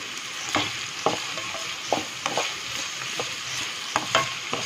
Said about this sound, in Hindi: ब्राउन होने तक फ्राई करेंगे हम।